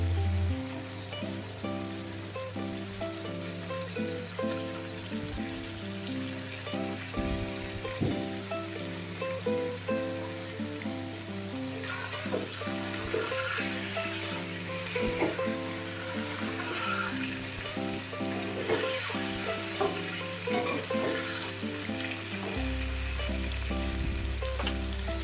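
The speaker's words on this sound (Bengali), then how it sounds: "এবার সামান্য হলুদ দেব, দিয়ে আবার একটু নাড়াচাড়া করে নামিয়ে রাখবো" Prawns fry with a little turmeric in a pan as they are stirred, giving a continuous moderate sizzle that sits under steady background music throughout.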